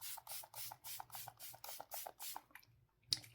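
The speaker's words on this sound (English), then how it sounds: "This is my Wetnwild setting spray." A Wet n Wild setting spray is misted up close in about ten quick, evenly spaced pumps, followed by a short quiet stretch and a sharp clatter at the end.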